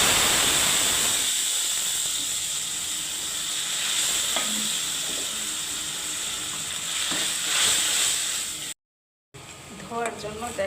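Onions hiss and sizzle steadily in hot oil for a lunchtime home-cooking dish, a loud continuous frying crackle with brief stirring clatters, a short break, then renewed sizzling.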